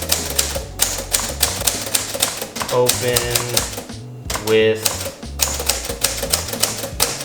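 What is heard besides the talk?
actual typewriter being typed on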